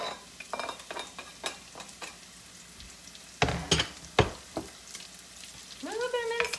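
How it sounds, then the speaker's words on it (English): Mushrooms and minced garlic drop into a hot pan for creamy bacon chicken thighs, a soft crackling sizzle punctuated by sharp utensil clicks and scrapes, close by, with a brief squeaky sound at the end. "I'm going to add in the mushrooms and then I'm going to add in the minced garlic."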